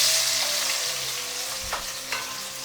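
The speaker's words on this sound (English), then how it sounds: "So I'm just adding oil to the pan." Oil sizzles and crackles steadily in a hot pan as vegetable Manchurian gets started, a dense hiss with a couple of soft knocks from the pan near the end.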